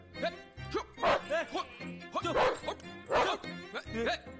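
A German shepherd barks loudly and close by in repeated bursts, with excited voices talking over and between the barks.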